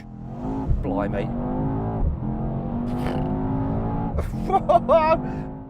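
Tuned Mercedes-AMG V8 engines rev and roar in short bursts, close and loud with sharp throttle blips, while someone talks over them throughout.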